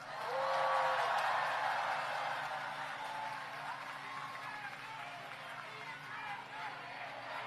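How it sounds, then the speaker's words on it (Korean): Crowd applause at an outdoor political campaign rally in Gimpo, a dense broadband clapping wash that is loudest at the start and then holds steady, with some voices mixed in. "마지막 박수 한번 치세요."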